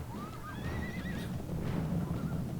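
Horses neigh during a cavalry charge in the strategy game Rome Total War, a rising whinny over a dense rumble of hooves and battle noise, with no talking.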